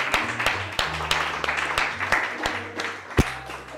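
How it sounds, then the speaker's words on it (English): An audience at a spoken word event applauds, steady clapping spread across the clip with a few louder, sharper claps standing out near the end while low musical tones hum underneath. "Naomi Ayala, let's give her another round of applause."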